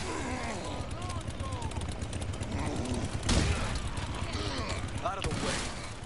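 Gunfire in the video game Resident Evil 4 crackles through a busy stream of game sound, with a couple of sharper bursts standing out, while a player talks over it.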